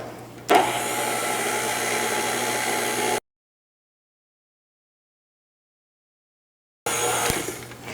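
A stand mixer mixes donut dough of flour and salt with a steady, loud whirring motor drone. The sound starts abruptly, cuts out for a few seconds, then resumes.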